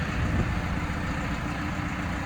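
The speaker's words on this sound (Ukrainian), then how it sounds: "І так, розвантажується третій тракторець з даної партії." A new 2024 Basak tractor's engine idles steadily during unloading, a low, even rumble that holds constant throughout with no voices.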